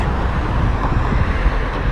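Road traffic rushing past a stopped Tesla Model S on a Polish roadside near Warsaw, a steady loud rumble with low buffeting wind noise and no clear breaks.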